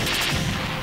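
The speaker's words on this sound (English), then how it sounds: "Missiles approaching." Missiles strike in the Zone of the Enders 2nd Runner mech game, a close, loud cluster of rapid explosive bursts packed into under a second.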